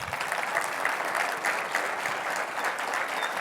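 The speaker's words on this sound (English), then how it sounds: "Let's give them a big round of applause." Steady, full audience applause at the opening of a Soup for the Soul charity event, many hands clapping evenly at moderate loudness for several seconds with no talk.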